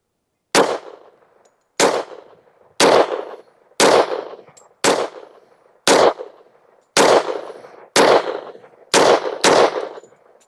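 Smith & Wesson M&P pistol firing 230-grain .45 hollow point rounds, ten sharp loud shots spaced about a second apart, each with a short ringing echo.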